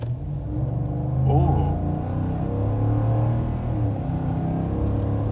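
A new 2021 Ford F-150 pickup with the 5.0 V8 revving under throttle, a deep close engine rumble with a rising induction roar that swells and then holds, while a man lets out a short exclamation.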